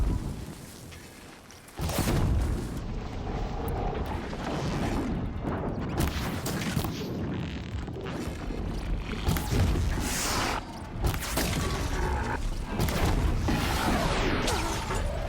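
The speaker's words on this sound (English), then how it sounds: "Oh, I forgot they've got a big area of explosion." A large explosion in the video game Horizon Zero Dawn, a loud broadband blast that erupts near the two-second mark and rolls on as a sustained rumbling crash through the rest of the stretch, with no talk over it.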